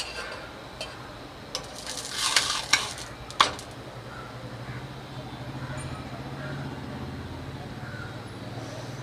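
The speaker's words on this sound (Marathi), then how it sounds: "त्याच्यावर आपण थोडं तेल घालून घेणार आहे आणि आपली ही पुरणपोळी त्याच्यात." Puran poli cooks in a little oil on a hot griddle over a high flame, a soft continuous sizzle with a few sharp scraping and clinking strokes of a spatula early on.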